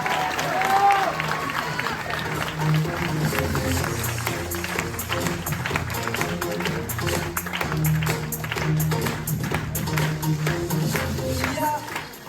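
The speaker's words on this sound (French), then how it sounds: "vous pouvez l'applaudir très très fort" Show audience at the Marina Viva performance applauds and cheers loudly, a sustained wash of clapping and crowd noise mixed with music and voices running underneath throughout.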